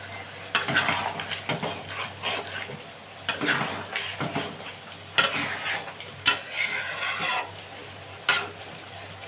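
Ground cumin and coriander paste goes into a hot pan, bursts of sizzle and spattering rising and fading in several surges, with stirring scrapes and utensil taps between them, close by and without talk.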